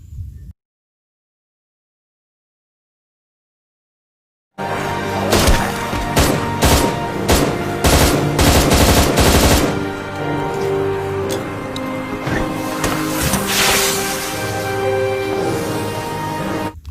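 After a short silence, rapid bursts of gunfire and machine-gun shots erupt loudly over a dense, dramatic soundtrack that keeps going, in the zombie film Peninsula (Train to Busan 2).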